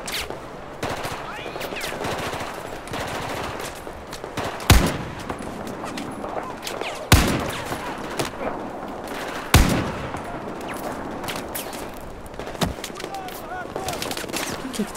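Gunfire in a Battlefield 4 combat mission in Tashgar: a steady din of battle with rattling automatic bursts and several loud sharp shots standing out at intervals.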